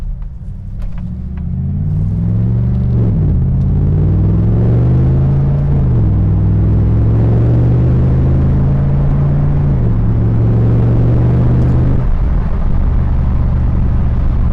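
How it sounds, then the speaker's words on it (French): A 2016 Morgan Aero 8 roadster's engine purring from inside the car, a loud low drone that rises gently in pitch through several gear changes as it accelerates, then drops as it downshifts. "On accélère tranquillement là, hein. On est vraiment sur le filet de gaz à l'anglaise. Et là je ne freine pas, je la laisse rétrograder tranquille, on a le ronron du moteur"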